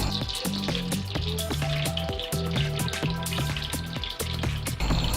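Cooking oil heats in a kadai for chicken korma, giving a steady crackling sizzle that runs under loud background music throughout.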